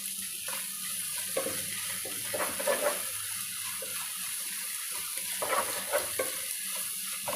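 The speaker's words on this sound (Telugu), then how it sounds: "రొయ్యలు ఉల్లిపాయ అల్లమెల్లిపాయ పేస్ట్ ఇవన్నీ మంచిగా వేగినాయండి నూనెలో" Prawns cook in oil with onion and ginger-garlic paste, making a soft, steady sizzle with brief louder crackles and scraping stirs at intervals, close but fairly quiet, with no talking.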